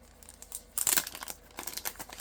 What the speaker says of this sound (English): let me put my little die back in my envelope